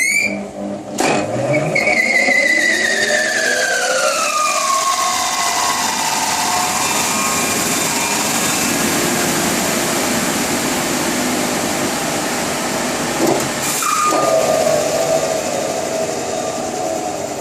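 A car wheel spins up on a dynamic wheel balancing machine, a rising mechanical whine and whir that falls in pitch and settles into a steady hum, then a brief clunk and a fresh falling tone near the end.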